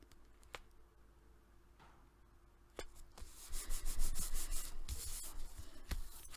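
Paper being burnished down onto a handmade teacher thank-you card, a close, soft rubbing and scraping that builds from faint scattered ticks into several seconds of denser strokes.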